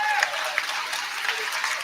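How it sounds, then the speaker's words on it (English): Scattered applause from a small group of about 50 to 60 travelling Bromley football supporters at Gateshead on the last day of the season, steady and moderately distant, with a voice talking over it. "Round of applause for the travelling Bromley fans."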